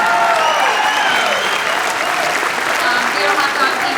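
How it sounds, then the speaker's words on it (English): Audience at an Indiana Democrats political gathering breaks into sustained, dense applause that stays loud and even throughout, with faint voices mixed into the crowd. "please frickin' clap for the hot dog."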